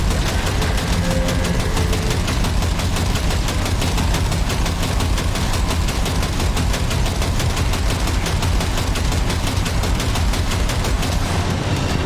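Rapid automatic gunfire aimed at drones in Cyberpunk 2077, a steady dense stream of shots rattling continuously and loudly under an engine drone, with no let-up for the whole stretch.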